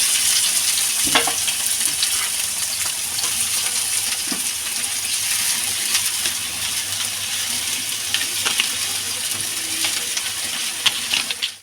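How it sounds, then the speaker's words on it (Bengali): Onions fry in hot mustard oil in a pan with a steady, close sizzle, broken by occasional clinks and stirring sounds. No one speaks. "পুরের জন্য বন্ধুরা প্যানে দিয়ে দেবো সর্ষের তেল। তেল গরম হয়ে গেছে, দিয়ে দেবো পেঁয়াজ।"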